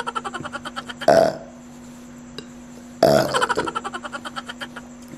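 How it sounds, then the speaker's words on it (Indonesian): Two loud, drawn-out burps from a person doing a burping challenge, about two seconds apart, close to the mic over a soft steady hum and faint rhythmic background ticking. "Ini namanya sendawa challenge."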